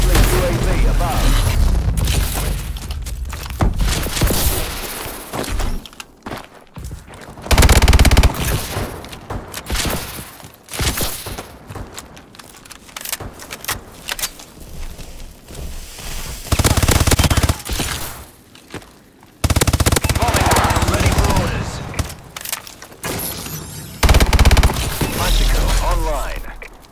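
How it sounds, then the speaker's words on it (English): A friendly bombing run in a Call of Duty-style exosuit shooter: loud bursts of machine-gun fire and heavy booming blasts crowd together in dense, chaotic waves, with radio-style voices calling out under the din. "Friendly bombing run clearing the way."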